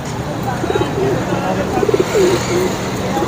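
Soft, repeated coos of a pair of Chinese pigeons at a market, a few low rolling calls close by over steady background noise, with a voice murmuring faintly underneath.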